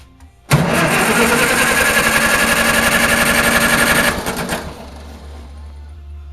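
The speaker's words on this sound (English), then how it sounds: "So let's give her a couple cranks and see what happens." An Allis-Chalmers WD45 tractor engine cranks over on its starter with the ignition off during a compression test, a loud steady churning for about four seconds that stops abruptly, leaving a low hum.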